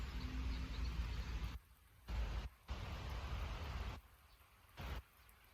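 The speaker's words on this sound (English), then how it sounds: "It's raining, but it has stopped a little bit." Steady hiss of rain falling in a park, broken by several brief quiet gaps, with a continuous wash of droplets on surfaces.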